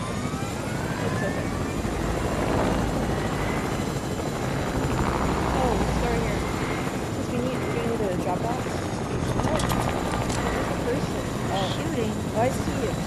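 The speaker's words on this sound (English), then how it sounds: "I end up blowing up the helicopter." A helicopter in the Fortnite video game thrums steadily for several seconds under gunfire and game effects while players talk over it.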